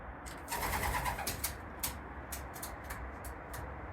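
Racing pigeons cooing softly nearby in a quiet loft at night, with a few scattered chirps and light rustling.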